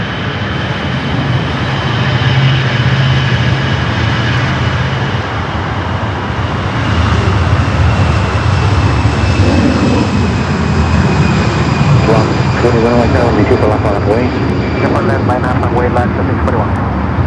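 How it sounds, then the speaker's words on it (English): A Delta Airbus A319 jet takes off from runway 24 left at LAX, its engines a loud, sustained roar with a rising whine, while radio traffic and talk run over it. "Delta A319 taking off there, 24 left."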